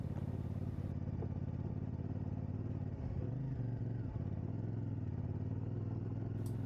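Motorcycle engine running at speed during a test day, throttle blipping in a few brief rises over a steady, fairly faint drone, with wind and road noise throughout.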